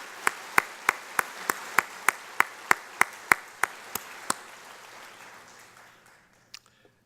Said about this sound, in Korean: 한번 크게 박수로 격려해 주시기